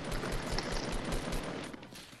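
Gunfire in Grand Theft Auto, a rapid string of shots in quick bursts, fairly close and steady before trailing off near the end, with no talk over it.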